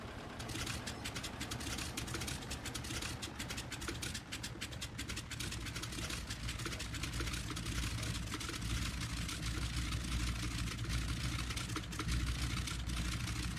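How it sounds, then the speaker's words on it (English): Small propeller aircraft engine just started and running steadily, a low continuous drone that stays constant and fairly quiet throughout, with no voices over it. "Alright, that's the engine going."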